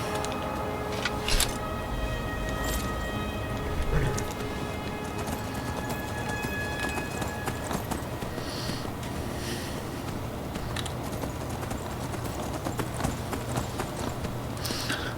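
Steady, rapid hoofbeats of a galloping horse in the video game Skyrim clip-clop continuously, moderately loud, with faint background rumble and occasional thuds.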